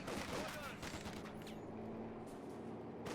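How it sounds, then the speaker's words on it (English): Machine gun fire from an MG42 in Company of Heroes 2, a dense rattle of faint, low-level gunfire with other battle noise running throughout. "just desperately trying to stay out of the cone of fire here from that machine gun"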